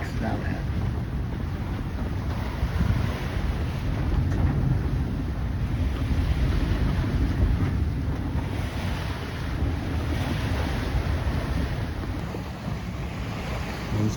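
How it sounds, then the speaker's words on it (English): Steady wind roars across the microphone and waves wash continuously against the hull of a sailboat heeling under sail in open water between Eleuthera and the Exumas, with no talking. "Wind's picked up a little bit."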